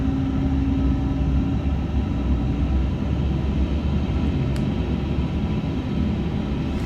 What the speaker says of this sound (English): Good start on engine number 2 as well.